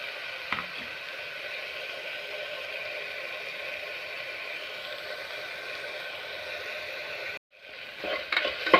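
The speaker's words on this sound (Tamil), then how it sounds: "லைட்டாக வதங்கட்டும்." Onions, tomatoes and chow chow vegetables sautéing in a pan for a South Indian pasi paruppu kootu, with a steady close sizzle and hiss broken by a brief pause, then stirring scrapes.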